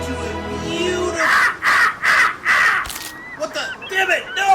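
A crow caws in a quick series of harsh, loud calls, four bursts in a row followed by a few shorter, fainter croaks, while a person's voice shouts nearby.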